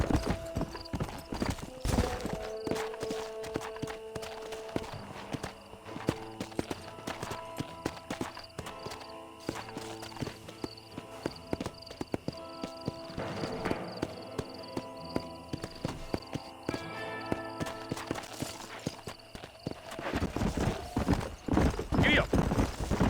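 Horse hooves clip-clop steadily through most of the stretch in the Western video game Red Dead Redemption, with occasional whinnies, a spoken voice and game music layered over the hoofbeats.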